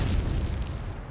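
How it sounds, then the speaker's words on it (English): A dense, booming gunshot blast from the visual novel Tsukihime Remake, a loud burst of noise filling the short moment and fading slightly at the end. "she presses her guns to my vampire heart and pulls the trigger to her censure."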